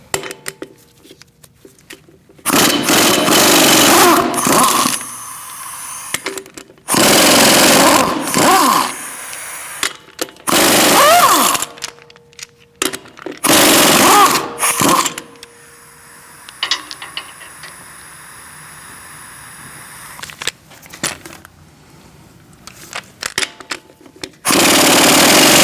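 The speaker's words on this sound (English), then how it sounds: "I'm using a 19mm socket, and we're going to remove the lug nuts." Power tool with a 19mm socket removing lug nuts from a 2016-2019 Chevrolet Cruze 1.4L, heard as loud, close bursts of rattling whir separated by short gaps and quieter stretches.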